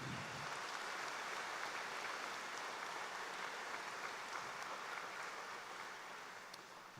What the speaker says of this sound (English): Can I have a big round of applause for all the volunteers that helped Bluefield?